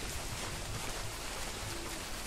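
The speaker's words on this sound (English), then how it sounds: "it's still pouring rain" Steady, dense rain pouring on a forest hiking trail, a constant hiss of drops with no voices.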